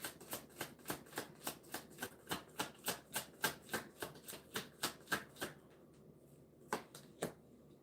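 Oracle cards are shuffled close up in a steady, even rhythm of crisp riffles, about two or three per second. The riffles thin out into a few scattered snaps near the end, and the sound is quiet, with no talking.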